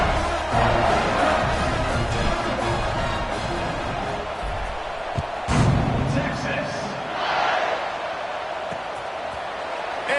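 Football stadium crowd roaring at a Texas game before a kickoff, a loud sustained wash of cheering that swells and dips, with a commentator talking over it.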